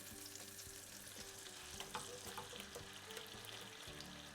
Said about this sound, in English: Just let it sizzle.